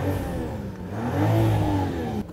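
A BMW M760e with an inline six-cylinder engine revs loudly up close, its tone climbing and then settling, a smooth mechanical growl from under the hood with no voices over it.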